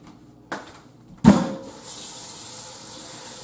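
A kitchen tap is turned on with a couple of clunks, then water pours steadily into a cooking pot being filled to boil gizzards, a continuous close rushing stream with no talk.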